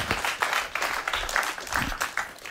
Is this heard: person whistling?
no